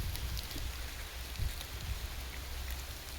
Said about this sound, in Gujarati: થોડોક જ વરસાદ આવ્યો છે